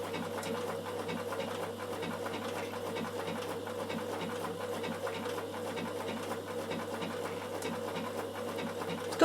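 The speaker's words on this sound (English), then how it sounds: "with this machine. You can do fancy stitching." A Bernina sewing machine runs steadily through fancy decorative stitching, a continuous close motor whir with a rapid needle rhythm that holds even for the whole stretch, with no voices.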